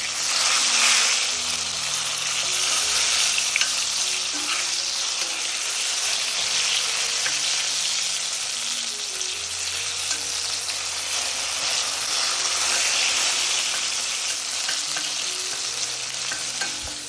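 Brinjal pickle fries in a pan on a gas stove, giving a steady, dense sizzle with scraping stirring strokes throughout and no talking.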